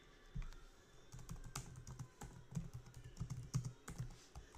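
Rapid, uneven clatter of keys on a computer keyboard as Python pandas code is typed, close-up and quiet, with short bursts and brief pauses.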